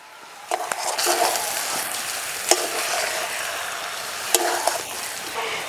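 Chicken and potatoes being sautéed in a pan for a chicken aloo dum, a steady soft sizzle with scraping stirs and a few sharp utensil clicks against the pan, close up and without talk.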